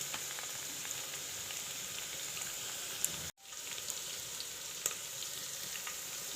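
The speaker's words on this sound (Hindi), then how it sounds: "अब इसमें लहसुन अदरक पेस्ट डालें। थोड़ी देर तक पका ले" Garlic ginger paste sizzles steadily in hot oil for a chicken handi, a close, continuous frying hiss with one brief dropout midway and no talking.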